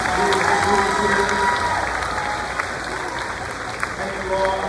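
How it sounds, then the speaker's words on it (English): Audience applause for students at a middle school 7th grade awards ceremony, sustained and dense with crowd noise throughout, steady and fairly loud. "how about one big round of applause for our fantastic students here."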